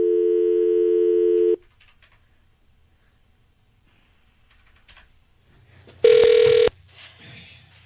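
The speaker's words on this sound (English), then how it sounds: "So let's dial him back up." Telephone tones on a call line: a steady loud multi-tone dial or ring signal for about a second and a half, a long quiet gap, then a second short burst of the same tone, with no voices.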